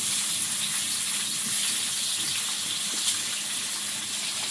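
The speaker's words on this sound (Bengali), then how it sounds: "তেলের মধ্যে প্রথমে দেবো পেঁয়াজ কুচি" Chopped onion fries in oil in a wok for a fish dish cooked in the Sundarbans, with a steady, fairly loud hiss that runs unbroken throughout. No one speaks.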